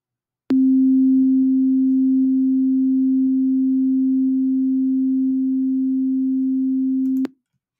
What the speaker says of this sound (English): So here it is, 263 hertz.